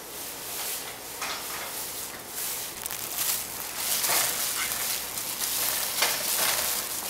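A spoon stirring melting chocolate chips in a pot, a continuous soft scraping and swishing with repeated strokes, close and steady throughout.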